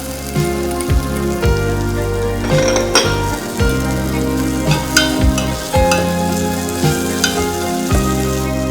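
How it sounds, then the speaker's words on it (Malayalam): Beef balls fry in a pan with mint, sizzling steadily while a spoon stirs and scrapes them in repeated rhythmic strokes, close and loud, with no voices. "നന്നായി മൊരിയണവരെ വരെ ഇത് ഇളക്കി കൊടുക്കാം"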